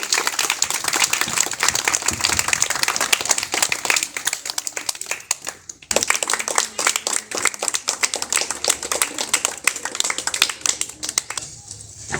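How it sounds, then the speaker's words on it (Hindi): An audience claps in a sustained, dense burst at a mass agnihotra gathering, with a short pause in the middle before the clapping resumes just as strongly. "तालियों से स्वागत करिए।"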